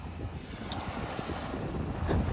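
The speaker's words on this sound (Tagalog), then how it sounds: "Grabe kasi yung lakas talaga ng hangin." Strong wind on the Manila Bay shore, buffeting the microphone with a constant low roar and gusty rumble, with faint surf noise underneath, steady and fairly close for a couple of seconds.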